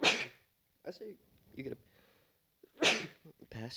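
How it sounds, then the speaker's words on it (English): One sharp sneeze bursts out at the start and a second, similar sneeze follows near the end, both close and loud, with casual conversation in between. "That was my third time I sneezed."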